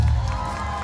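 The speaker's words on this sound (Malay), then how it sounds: "Tepuklah kuat sikit." Festival crowd at a fusion food festival cheering and applauding, a dense wash of voices and clapping filling the whole short moment.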